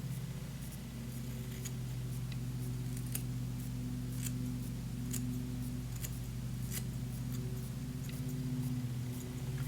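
Hair shears snip repeatedly in quick, light metallic ticks over a steady low electrical hum, close by and continuous, with no talking.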